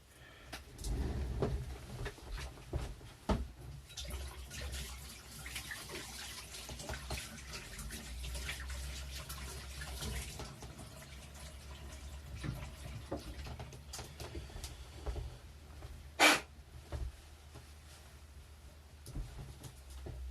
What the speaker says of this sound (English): Let me give this a quick rinse actually.